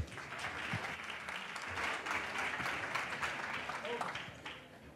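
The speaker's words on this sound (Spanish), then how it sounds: "un fuerte aplauso para Pablo" An audience at a product management talk applauds a speaker as he takes the stage, steady clapping at moderate distance with faint murmuring underneath.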